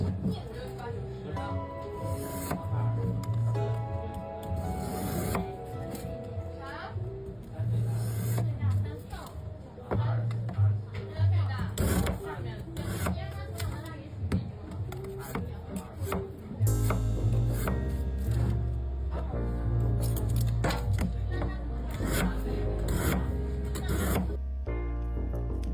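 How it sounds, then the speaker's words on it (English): A bartender's sharp knife cuts clear ice into uniform sticks, giving repeated crisp chopping knocks and crunches under a steady narrating voice. "A bartender cuts clear ice into uniform sticks with a sharp knife and steady control."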